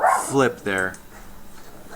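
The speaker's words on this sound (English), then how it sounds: "Pardon my dogs." Pet dogs bark close by, two or three sharp, yelping barks in quick succession, followed by quieter room sound.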